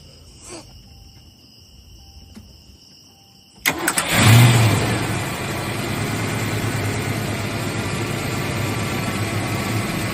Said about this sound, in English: Starting it after plugs and wires.